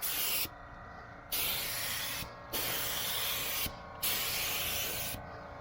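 Primer coat going onto a van from a spray gun, a loud steady hiss in four long bursts separated by short pauses, with no talk.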